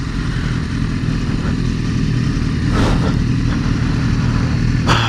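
Sports motorcycles, a Yamaha FZ09 and a Kawasaki, rumble steadily nearby as their engines drone past, with a louder swell midway and a brief sharp burst near the end.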